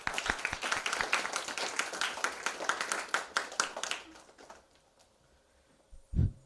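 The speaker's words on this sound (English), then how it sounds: "Let's take a moment to give another round of applause for her." Audience claps for about four seconds after a Bharatanatyam dance performance at a space science olympiad event, then the applause trails off into quiet with a brief low thump near the end.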